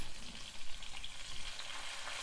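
Green chilies fry in a pan with turmeric, ginger-garlic paste and curry leaves, giving a steady, fairly soft sizzle with light crackling.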